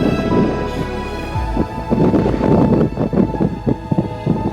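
Icy wind buffets the microphone on a wintry, misty hill walk at Stanage Edge in the Peak District, a loud, low rumbling roar with gusty surges throughout.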